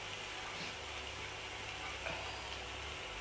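Thinly sliced onions hit hot oil in a medium pan on high heat, giving a steady, soft crackling sizzle with faint scraping, heard alone at low level.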